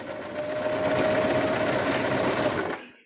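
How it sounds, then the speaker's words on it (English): A sewing machine stitches a fabric hood onto a cloak, running in one steady, loud whir for nearly three seconds before stopping abruptly. "The intention is to sew this hood on in a way that it naturally curls back like Snivey's cloak does."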